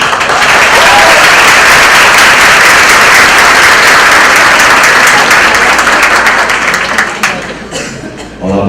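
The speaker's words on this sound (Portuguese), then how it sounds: "Recebam com muitos aplausos o professor Rossandro Klinge." A large conference audience at an education congress applauds to welcome a speaker, a loud, dense wall of clapping that holds steady before thinning out near the end.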